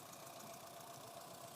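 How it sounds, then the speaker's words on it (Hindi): A Honda City i-VTEC engine idles with a cylinder 1 misfire, giving a steady, uneven rumble with faint knocking and vibration, heard close and fairly quiet with no voices. "हिल रहा है, वाइब्रेशन कर रहा है इंजन"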